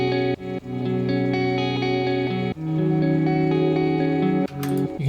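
A picked electric guitar line with its highs EQ'd down rings out in sustained, effects-laden notes with echo and chorus, steady and fairly loud, with a short bright flourish near the end and no voices.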